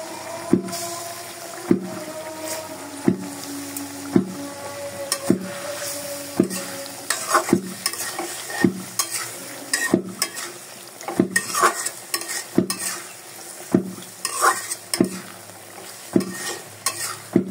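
Guchi fish and new potatoes being sautéed in a pan, a soft sizzle under a regular rhythm of spatula strokes scraping and knocking roughly every second, growing busier toward the end, with no speech.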